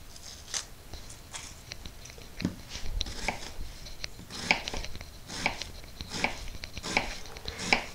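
Rough chopping of fresco tomatoes for salsa on a cutting board, a series of crisp, close knife taps at an uneven steady rhythm, about a dozen strikes, no talk.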